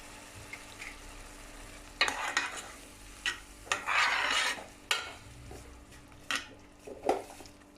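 Ginger and garlic paste sizzles in a pan for fish curry while a utensil scrapes and stirs in irregular bursts, close up over a quiet background hiss.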